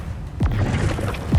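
Depulsor spell effect from the Hogwarts Legacy video game: a short, close whooshing burst with a low thump, followed by another swish just over a second later.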